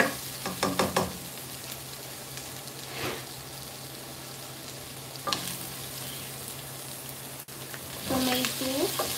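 Food fries in a pan with a steady, close sizzle, broken by a few louder bursts of stirring and scraping.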